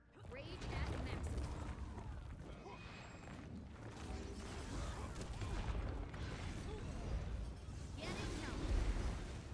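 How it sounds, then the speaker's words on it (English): Cannons fire in a chaotic multiplayer battle in the video game Hammer Catalyst, a run of heavy booms and crashing impacts mixed with clanking mechanical noise, loud and dense throughout. "Cannons loaded. Ring the bell to signal them to fire."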